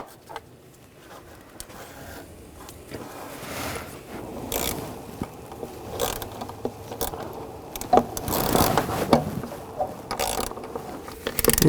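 Ratcheting and metallic clicking as throttle body screws are started and tightened by hand on a 2009-2017 Volkswagen Tiguan 2.0L four-cylinder, close-up with irregular bursts of tool and part handling throughout.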